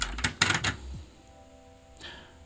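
A cassette deck with a tape that won't run properly gives a few sharp mechanical clicks as rewind is pressed, followed by a faint, thin whir of the tape spooling and another click near the end.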